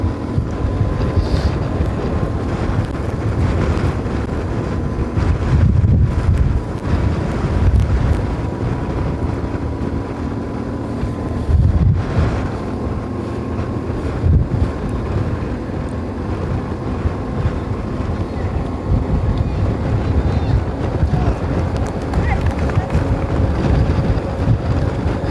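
Steady wind roars and buffets a microphone along a men's elite bicycle race route in Johannesburg, a continuous broadband rush with gusty surges throughout and no voices.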